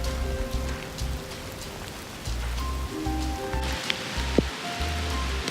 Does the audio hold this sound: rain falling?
yes